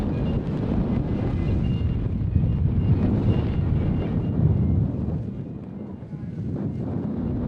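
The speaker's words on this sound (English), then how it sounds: "These guys are getting absolutely battered by these wind conditions right now." Strong wind buffets the microphone at a collegiate road cycling criterium in Albuquerque, New Mexico, as a loud, continuous rumbling roar that swells and dips slightly.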